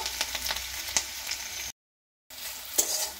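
Chopped onion fries in a pan until browned, giving a close, steady sizzle with light crackles, cut off briefly by a moment of total silence before the sizzling resumes.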